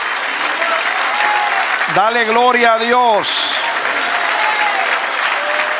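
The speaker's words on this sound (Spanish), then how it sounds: "Dale un aplauso al Señor. Aleluya. Sigue aplaudiendo." A church congregation claps steadily throughout a worship service, a dense sustained wash of applause, while a voice speaks and briefly sings out over it in the middle.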